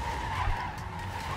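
A truck in the Clustertruck video game skids and crashes, giving a steady, loud tire-skid roar with a brief thump partway through and no talking.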